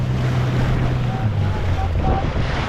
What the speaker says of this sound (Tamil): நடுக்கடலில் அலை அடிச்சுட்டு இருக்கு பார்த்தீங்களா காற்று செம்ம காற்றுங்க